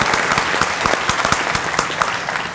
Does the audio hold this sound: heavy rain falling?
no